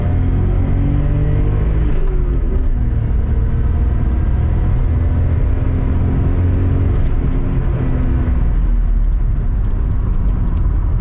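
Nissan R31 Skyline pulling hard up a track straight, a loud sustained engine roar with rising harmonics and constant rumble, close and continuous throughout, no voices.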